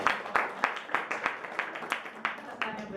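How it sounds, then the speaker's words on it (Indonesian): A classroom group claps after a student presentation, uneven rhythmic hand claps with sharp individual smacks standing out, fairly close and moderately loud, with some voices talking among the clapping. "Kasih tepuk tangan dulu."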